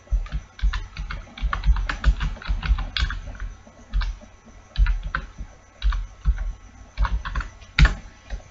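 Quick, uneven keystrokes on a computer keyboard in bursts with short pauses, close and fairly clear, no one speaking.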